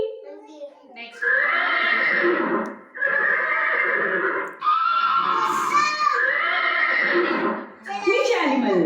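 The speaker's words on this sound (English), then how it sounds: "Horse." A horse neighs and whinnies repeatedly in loud, close, drawn-out calls, with brief pauses between them; a voice is also faintly mixed in.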